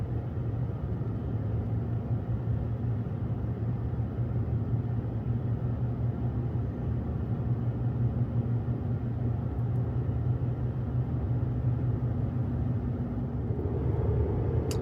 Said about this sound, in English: It's a lot of big trucks.